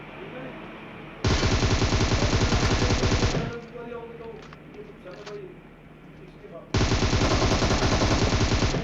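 Bursts of rapid automatic gunfire from a battle royale video game, two long loud sustained volleys separated by a quieter stretch of scattered distant shots and game noise.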